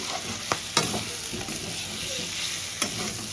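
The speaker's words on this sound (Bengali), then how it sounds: "সিদ্ধ করা ছিল আগে থাকতে, দিয়ে একটু নেড়ে দেবো, একটু কষানো হবে।" Boiled Rita fish roe stirred in a hot pan, a steady oily sizzle with a few sharp spatula scrapes against the metal, close and unaccompanied by talk.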